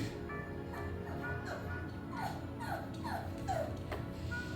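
A puppy whimpers in a series of short, high, falling whines, repeated steadily over a low background rumble.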